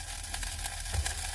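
Sausages browning in a pan give a steady, close sizzle with soft crackles, alone and without talk, over a low background hum.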